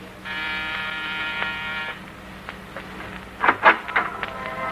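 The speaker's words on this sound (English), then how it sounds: "press the buzzer of a door" A steady electric door buzzer drones for about two seconds, then stops, followed by a few soft knocks and shuffling sounds nearby.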